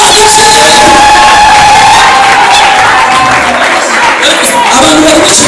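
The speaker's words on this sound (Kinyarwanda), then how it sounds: "komera imana amashyi" A church congregation at a prophecy service erupts in loud applause and cheering, a dense, continuous roar of clapping and voices that carries through the whole stretch without letting up.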